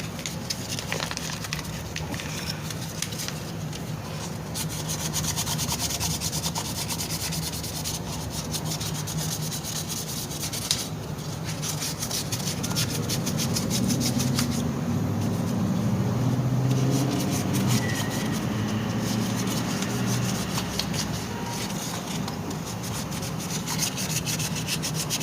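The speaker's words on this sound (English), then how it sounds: "you have to clean the surface with the sandpaper. Light sandpaper. Light sandpaper, 100." Light 100-grit sandpaper rubbing across a surface on a 2012 Jeep Wrangler Sport engine during a coolant temperature sensor repair, a steady scratchy rasp that continues for about 25 seconds and grows fuller midway, with no talk.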